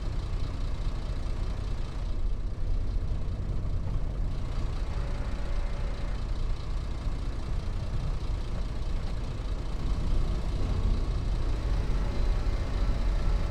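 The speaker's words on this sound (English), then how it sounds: "You know what I love about this Volvo? The engine sound is like truck sound." A Volvo engine idles with a deep, truck-like diesel rumble on a farm, loud and steady with a low throbbing drone and no voices.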